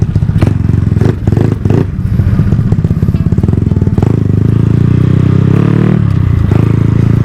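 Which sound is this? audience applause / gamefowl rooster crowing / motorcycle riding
motorcycle riding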